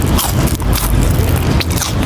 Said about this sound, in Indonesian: Dengerin ya kriuknya nih.